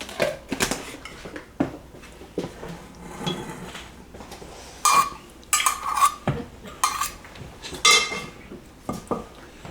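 A spoon scrapes and clinks against a container while scooping out food during twice-baked potato prep, irregular metallic knocks and scrapes up close with no talking.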